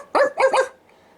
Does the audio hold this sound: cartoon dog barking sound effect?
yes